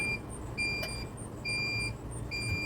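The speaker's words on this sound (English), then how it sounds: "Gotta hit okay to stop that beeping." A sublimation heat press sounds an alarm of short, high electronic beeps in a steady repeating pattern, moderately loud over a low background hum outdoors.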